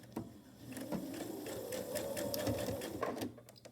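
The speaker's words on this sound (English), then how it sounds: "I'm just going to stitch it down as close to the edge as I can" A sewing machine runs a steady stitching seam along the edge of a fabric face mask, its rapid motor whir and needle rattle continuous and close for several seconds before stopping.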